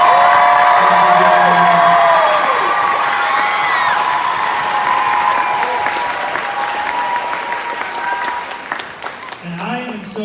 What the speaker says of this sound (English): maybe a little bit of specific applause for DC Comedy